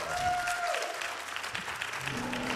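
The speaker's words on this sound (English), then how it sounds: "So I get ready for some more applause very soon." An audience applauds at a charity speedrun marathon, steady loud clapping from a large crowd filling the whole short stretch.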